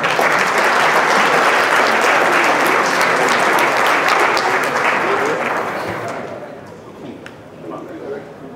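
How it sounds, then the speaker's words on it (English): An audience at a fundraising gala dinner in Atlanta claps loudly and steadily, then the applause thins and fades over the last couple of seconds. "Ladies and gentlemen, let's give a warm applause for Chairman Ani Agnihotri."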